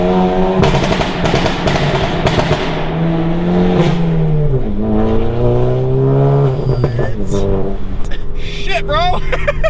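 A tuned Stage 2 EQT Mk7 Volkswagen GTI revs with loud exhaust crackles, pops and bangs, close up and continuous, while people talk and shout excitedly over the engine noise.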